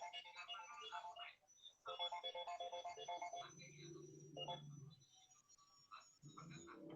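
A telephone ringtone plays a bright, repeating electronic melody in bursts, fairly faint and indoors, with a person talking over and between the rings.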